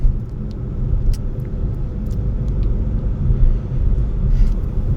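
A car exhaust with muffler and resonator deleted but catalytic converters retained produces a steady low rumble, close and fairly loud, with faint higher ticks scattered above it.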